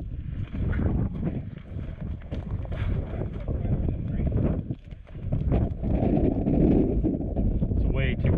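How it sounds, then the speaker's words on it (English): Strong wind buffets the microphone on a ridge during an outdoor airsoft match, a continuous low rumbling roar with gusts, while players talk over it. "It's way too windy up here to hit anything, huh?"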